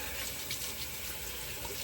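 Steady rushing of running tap water, close and continuous, as a Tedalus Velocity One electric shaver is rinsed beneath the stream.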